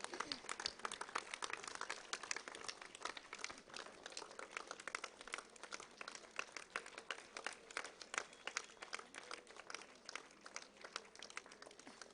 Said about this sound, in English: Let our applause continue and bring smile on our dear sister, the great missionary.